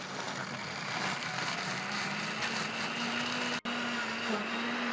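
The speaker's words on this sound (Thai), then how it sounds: "เราก็ปั่นด้วยความแรงสูงสุดได้เลยนะครับ" A blender runs at maximum speed, whirring a frozen drink of cola mixed with soda, ice, syrup and plum sauce. The motor hum is loud and steady, its pitch rising slightly, with a brief cut near the end before it resumes.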